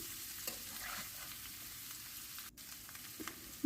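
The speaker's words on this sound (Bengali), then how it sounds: "ঠিক এইভাবে একটু ভেজে নিতে হবে।" Spiced potatoes sizzle steadily in a hot pan with a continuous crackling hiss, broken by a few soft scraping stirs near the end.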